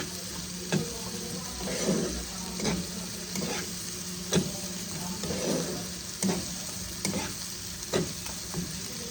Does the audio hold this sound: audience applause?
no